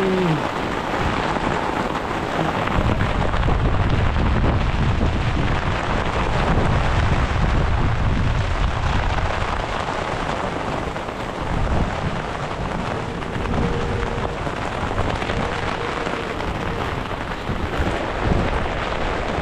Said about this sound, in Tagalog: Malakas na may ulan at saka hangin oh.